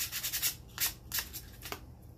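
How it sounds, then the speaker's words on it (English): Sandpaper rubbed by hand over a patched, cooled spot on a Dollar Tree farmhouse craft piece, giving several short scratchy strokes at close range, fairly quiet with no talk. "And then I'll rub that with my sandpaper."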